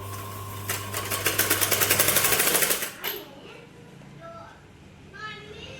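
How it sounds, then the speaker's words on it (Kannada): A sewing machine stitches a blouse cross strip in a fast, rhythmic burst of needle strokes for about three seconds, then stops, and someone talks afterward. "ಇದಕ್ಕೊಂದು ಹೊಲಿಗೆ ಹಾಕ್ಕೊಂಬರ್ತೀನಿ ರೀ"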